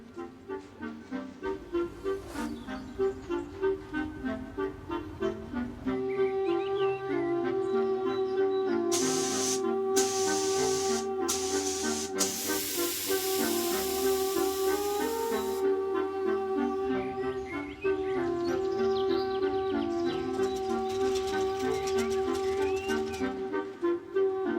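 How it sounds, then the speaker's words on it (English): Bursts of steam hiss from a steamer used to shape a cloth cap in a repair workshop, coming in a few separate spurts over soft background music. "I'm going to steam the cap"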